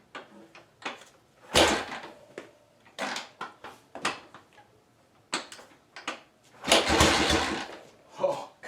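An old BMW R90/6 motorcycle that has not run in years, cranked with its choke set, gives several ragged bursts of sputtering and cranking, close and fairly loud, with a longer stronger burst near the end and brief talk between attempts.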